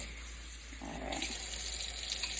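Water running from a tap into a container, a steady hiss and gush that thickens as the flow strengthens after about a second, close and fairly quiet with no talk.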